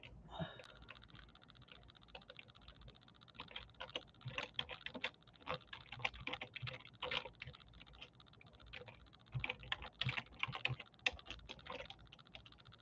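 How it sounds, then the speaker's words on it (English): Steady typing on a computer keyboard, with irregular bursts of close, crisp key clicks that run for the whole stretch, slowing and quickening, with no talk over them. "I'm typing slow, y'all."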